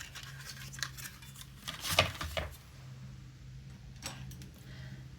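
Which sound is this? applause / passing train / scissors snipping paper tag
scissors snipping paper tag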